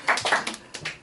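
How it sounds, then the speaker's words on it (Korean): A few hand claps from a group during a Korean sermon or lecture, sharp and uneven over about a second, several overlapping slaps with no voice over them. "박수."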